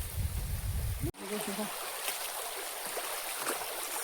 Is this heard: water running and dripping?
yes